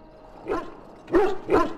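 A dog in a video game gives three short, close barks: a lone yelp, a pause, then two quick barks in succession, with no talking over them.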